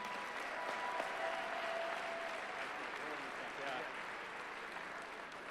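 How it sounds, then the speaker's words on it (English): Applause rolls through the audience at the 2023 Juno Opening Night Awards, a steady, moderately distant wash of clapping from a large crowd that holds evenly throughout. "one more round of applause"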